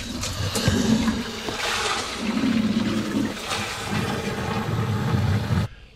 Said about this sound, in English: fill up both live wells all the way to the overflow